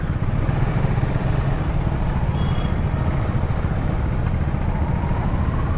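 Dense city road traffic at peak time rumbles steadily nearby, heavy engines droning without pause in a thick, continuous wash of vehicle noise.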